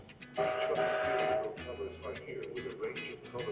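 A loud, sustained train-style horn fitted to a car sounds for about a second, then people talk over lingering background noise.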